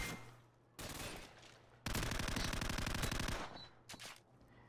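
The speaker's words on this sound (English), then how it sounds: "Waited for something more clear before I started firing." Gunfire in Call of Duty 4: bursts of rapid automatic fire, with a long sustained stretch in the middle and a short burst near the end, loud and up close with no talk.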